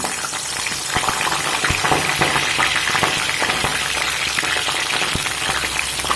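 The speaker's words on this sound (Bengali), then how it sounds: "তেলটা আমার গরম হয়ে গেছে এখানে দিয়ে দেব যে আমি ফুলকপি কেটে রেখেছি সেই ফুলকপি" Cut cauliflower drops into hot refined oil in a kadai and fries with a loud, continuous crackling sizzle full of sharp pops, heard close up with no talking.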